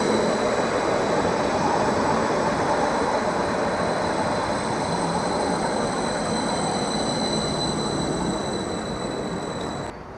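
A Class 755 train arrives at platform 3 of Ipswich station from Cambridge, a loud, continuous rumble and whine of the approaching unit that holds steady before easing slightly at the end.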